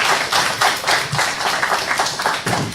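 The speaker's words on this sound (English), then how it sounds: "Big round of applause for her," Audience at a communication workshop clapping for a participant, uneven bursts of individual claps from a modest crowd, close and fairly loud, with no talk.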